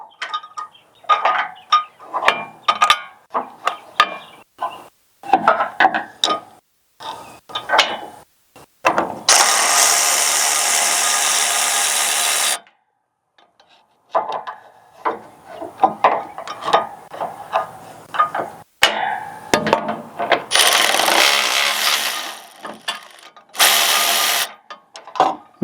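A screwdriver works on an ArmorDillo hood guard fitted to a Kubota SVL97-3, giving sharp, irregular ratcheting clicks and metallic knocks up close, broken by a few longer bursts of hissing mechanical noise.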